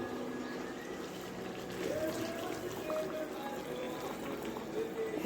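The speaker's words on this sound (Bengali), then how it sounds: "এবারে দিয়ে দেব গরম জল।" Hot water poured into a pot of curry cooking on the stove, a soft bubbling, gurgling liquid sound at moderate volume, steady for a few seconds in a home kitchen.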